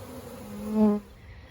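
A honey bee ground swarm buzzes steadily nearby, with one bee droning louder as it passes close to the listener.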